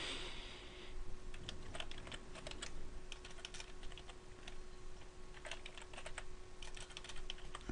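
Fingers type a password on a computer keyboard, giving a quiet, close run of irregular key clicks in small bursts with short pauses, over a faint steady hum.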